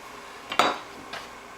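A knife slices the top off a red pepper on a cutting board in a kitchen, giving two short, close knocks about half a second apart, the first sharper than the second.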